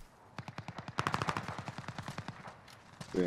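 Sniper fire in a shooter game, heard as a fairly faint, rapid string of sharp cracks with a short pause, then a few more shots, with no talking.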